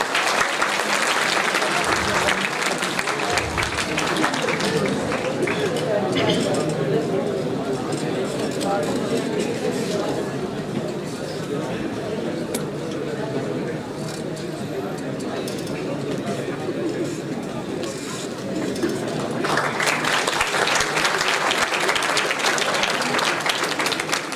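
A large conference audience applauds loudly and continuously, a dense wash of clapping that dips slightly in the middle and swells again near the end.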